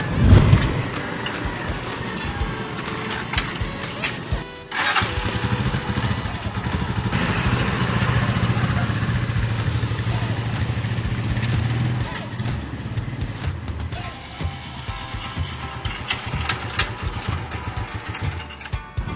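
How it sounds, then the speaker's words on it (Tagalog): A newly installed motorcycle engine on a rebuilt tricycle is started and run, a loud rough running drone that steadies into a continuous rumble, with people talking over it throughout. "Tapos nakabit na rin yung motor na binili niyo po uh, susubukan ko muna patakbuhin"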